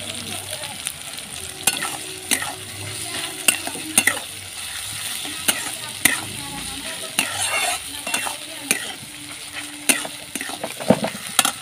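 Garlic, ginger, chilli and vegetables frying in a pan for vegetable chop, sizzling steadily while a spoon stirs and scrapes with repeated sharp clinks, close and alone without talk.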